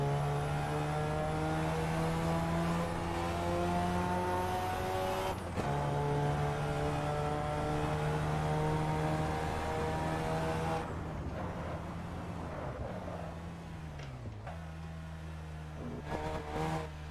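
Simulated car engine from the Assetto Corsa racing sim, a steady droning hum with strong harmonic tones, mostly off the throttle and fairly quiet, with a few pitch shifts and brief revs toward the end.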